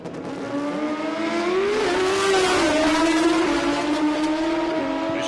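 A Suzuki Hayabusa drag bike makes a racing run down a drag strip with a loud, high-pitched engine wail that climbs through the gears, rising and shifting steadily as it sustains for several seconds.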